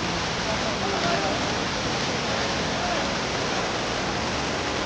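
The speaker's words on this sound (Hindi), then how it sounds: "देखिए पानी किस तरह का जो बह के आता है ऊपर से" Umru waterfall in Karbi Anglong, water flowing down from above in a steady, broadband rushing roar that stays loud and unbroken throughout, close by with no clear voices.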